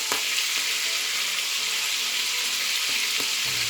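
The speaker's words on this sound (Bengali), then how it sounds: "তো মাছগুলোকে একটু উল্টে দিচ্ছি। এখনো ভাজা হয়নি, পরে হবে।" Prawns frying in a pan for a crispy Bengali prawn bhuna make a bright steady sizzle, close and fairly loud, with a couple of soft utensil knocks as the pieces are turned.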